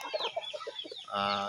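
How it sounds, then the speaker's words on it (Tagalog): A chicken clucks in a quick series of short, soft notes, then lets out a longer drawn-out call. "Ito yung manok."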